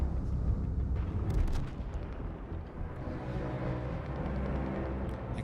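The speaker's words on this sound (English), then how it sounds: "Explosion," Deep rumbling explosion in an action film trailer set in Metropolis, a heavy low boom that rolls and decays into sustained rumble, with a few faint crackling bursts on top, moderately quiet throughout.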